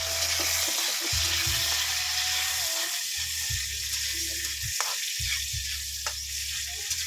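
Tomato sizzling and frying in a hot pan alongside onion, a steady crackling hiss with intermittent stirring scrapes, close and moderately loud.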